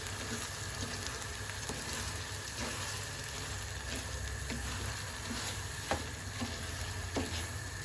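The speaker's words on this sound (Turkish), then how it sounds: "Şimdi annem güzelce pirincini kızartacak." Quiet, steady sizzling and crackling of rice toasting in a pan, with occasional soft stirring scrapes; no talking.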